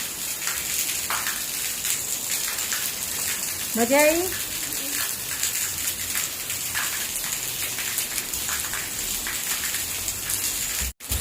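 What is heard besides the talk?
rain falling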